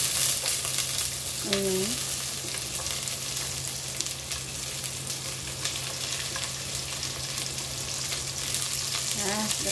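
Garlic frying in hot oil in a pan for a Filipino-style seafood soup, a steady close sizzle that runs throughout, with a few short spoken interjections over it.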